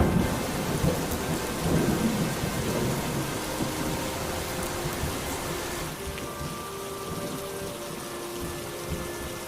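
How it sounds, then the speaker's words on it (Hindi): Heavy rain pours with deep rolling thunder as a storm sound effect in a Hindi cartoon story. A loud, dense downpour with rumbling booms eases after a few seconds into steadier, quieter rainfall, with no voices. "वो दोनों बच्चों को लेकर तेज बारिश में मुकेश के घर की तरफ चलते हैं।"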